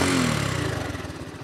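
A 2023 Honda ST 125 Dax with its carburetted engine runs close by, loud at first, then settling into a rhythmic, pulsing putter as the level gradually eases.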